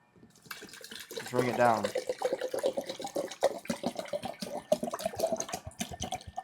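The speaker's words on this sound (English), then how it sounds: "Now I'm gonna fill this baby up with some coconut water." Coconut water is poured into a container in a steady splashing, gurgling stream, briefly rising in pitch as it fills, while a person talks over it.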